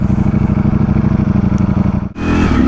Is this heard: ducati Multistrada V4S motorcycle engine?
yes